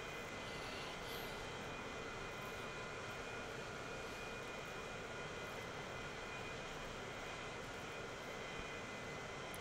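A Lufthansa A320 airliner cruises from Prague to Berlin in Transport Fever, its engines producing a steady, unbroken roar that holds level throughout.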